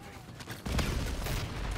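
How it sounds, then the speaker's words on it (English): In a first-person shooter video game, a thrown grenade goes off with a sudden boom, followed by dense rattling gunfire and battle noise, close and loud. "I'm gonna throw a grenade in there."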